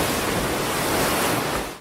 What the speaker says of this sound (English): The tidal bore is created when a large surge, which is so strong, temporarily reverses the flow of the river, casting a rush or wave of water upriver.